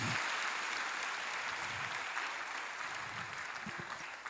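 A church congregation claps in praise, a dense, continuous burst of applause from many hands that fills the room and fades slightly toward the end.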